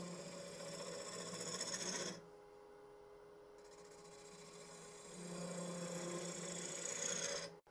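A woodturning gouge slices thin wood on a spinning lathe, giving a steady raspy cutting hiss that drops away briefly mid-clip, then returns for a second sustained pass before stopping abruptly.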